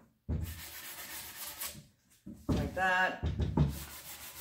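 Cabinets are scuffed by hand with sandpaper, close-up rubbing strokes in short bursts, partly mixed with a person speaking.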